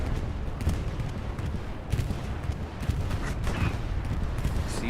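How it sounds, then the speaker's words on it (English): A bombing run in Hell Let Loose on Omaha Beach brings continuous distant blasts and rolling gunfire, a dense rumbling barrage with scattered sharper cracks and no talk. "Here comes the bombing run from TL."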